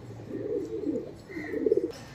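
Ambalsarey pigeons cooing in two soft, low rolling phrases close by, with a faint higher chirp between them and no voices.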